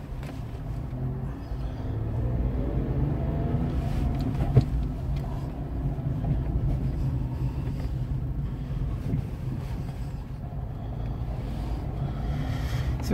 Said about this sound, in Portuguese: vamos dar uma volta com Up